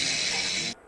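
Electric hot plate running at maximum power: a loud, steady, harsh hiss or buzz for under a second that cuts off abruptly, heard close with no voices.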